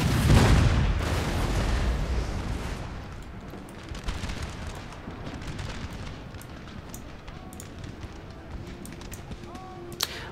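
Cannons boom across a Napoleonic-era battlefield in the strategy game Napoleon: Total War, a heavy blast opening the scene followed by scattered distant artillery reports and crackling gunfire over a rumbling din, with someone talking.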